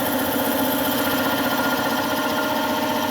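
An air compressor in a lab runs loudly and steadily close by, giving a dense mechanical drone with a fast pulsing throb throughout and no speech.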